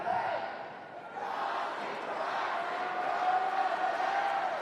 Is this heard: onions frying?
no